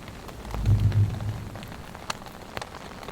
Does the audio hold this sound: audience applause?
no